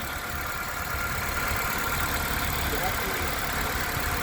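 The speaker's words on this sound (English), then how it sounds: "Okay, with the motor running." A 2012 Honda Civic engine idles with a steady, even rumble close by, holding constant throughout with no revving.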